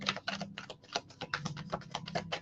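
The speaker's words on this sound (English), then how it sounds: "I don't know why I'm shuffling my cards up." Tarot cards are shuffled close up in a rapid run of crisp, papery clicks and riffles that continue steadily throughout, with a faint low hum underneath and no talking.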